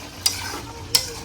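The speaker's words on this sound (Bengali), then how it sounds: "একটু নেড়ে চেড়ে আবার ঢেকে দেব।" A papaya curry with koi and shing fish is stirred in a pan, giving two brief scraping strokes over a soft, continuous simmering sizzle, close and alone.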